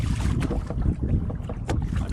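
A pedal kayak glides on open water heading into the wind, with steady wind buffeting and soft water wash throughout, no talk.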